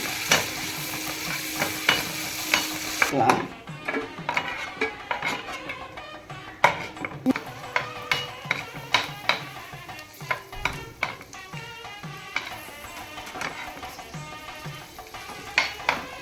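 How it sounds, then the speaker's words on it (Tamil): Cashews fry in a pan for a Tamil Nadu style paneer butter masala, giving a steady close sizzle broken by a sharp clatter at the start and then repeated rhythmic scrapes and taps of a stirring spoon against the pan. "இதில் நம்ம முந்திரியை பொரிச்சு வச்சுக்கோம்."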